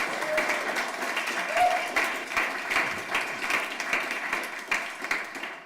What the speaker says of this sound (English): So this is your final applause